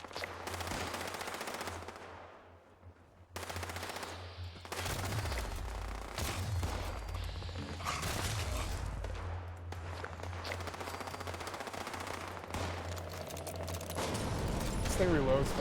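Rapid video game gunfire crackles in dense bursts with mechanical clatter, loud and continuous through a short gap, with background game sounds layered underneath.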